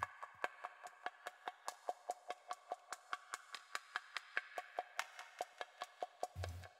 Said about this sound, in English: bongo percussion kind of loop and ran it through some processing here